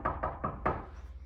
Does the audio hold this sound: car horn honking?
no